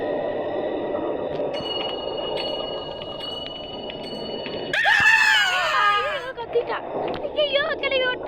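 Shrill screams and wailing cries erupt partway through amid the Evil Nun horror video game, loud and close after a stretch of low background noise and faint tones, with voices around them.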